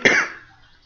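A single sharp, loud cough close to the microphone, fading quickly into quiet.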